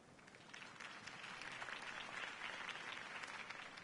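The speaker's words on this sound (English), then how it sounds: "could have heard that applause" Steady crowd applause in the video game Batman: The Telltale Series, a dense wash of clapping that holds at an even level throughout without voices standing out.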